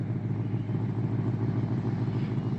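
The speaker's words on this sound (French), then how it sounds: "On entend déjà le glou-glou du V8" A Ford Mustang GT V8 with twin rear exhausts, automatic, rumbles steadily at idle, a dense low burble holding even and loud throughout with no talk over it.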